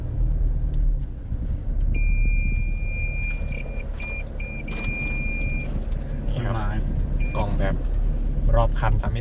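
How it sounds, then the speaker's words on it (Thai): Parking sensor warning beeps from a Toyota Fortuner Legender 2.8 4WD crawling off-road close to trees, short, repeated high tones over engine rumble while someone talks. "แล้วก็สัญญาณเตือนต่างๆ เซ็นเซอร์ก็ดังนะเพราะว่า มีต้นไม้อยู่ใกล้ชิดรถเรามากนะครับ"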